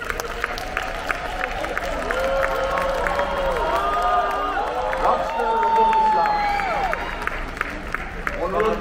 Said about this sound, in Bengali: রকস্টার ঢুকলেছে, হাততালি সে ডিজার্ভ করে।